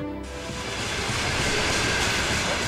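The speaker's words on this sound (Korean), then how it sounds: "혹독한 40일을 달리던 비극의 강제 이주 수송 열차가 우슈토베역에 멈췄다" A Soviet deportation transport train runs with a steady, loud rumbling roar, a continuous rolling noise heard on its own without any voices.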